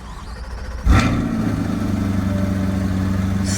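A 2025 Chevy Corvette E-Ray's engine fires up with a sharp loud burst of cranking and revving, then settles into a steady, throaty idle that continues evenly to the end.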